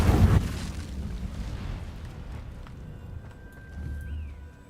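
An Incendio fire spell is cast in Hogwarts Legacy, opening with a loud fiery whoosh and rumble that fades into a low sustained roar, with a faint tonal whine near the end.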